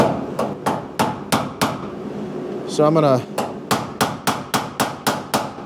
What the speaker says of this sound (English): we'll hammer in down in this corner here